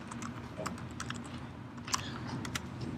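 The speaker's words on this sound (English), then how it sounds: "I'm going to type it since it looks much nicer when it's typed" Steady clicking of keys on a computer keyboard, quick irregular strokes close by and fairly quiet, with no voice heard.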